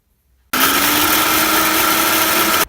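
A coffee grinder grinds dried hot peppers and their seeds into powder, a loud steady motor whir with a high rattling buzz that starts abruptly and cuts off cleanly about two seconds later.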